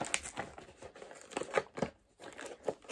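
Plastic packaging around a set of LED lights being crinkled and torn open by hand, a close run of irregular rustling and crackling bursts with a brief pause partway through, no talking.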